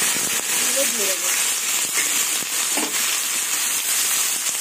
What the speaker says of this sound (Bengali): এবার আলু আর কাঁকরোল দিয়ে দেবো।